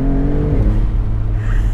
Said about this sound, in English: You have like a whiplash every single time you let off on the gas after accelerating